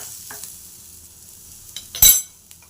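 Fish-curry ingredients frying softly in a pan, a faint steady sizzle broken by a sharp clatter of a utensil partway through.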